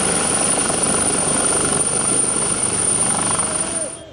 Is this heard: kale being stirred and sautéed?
no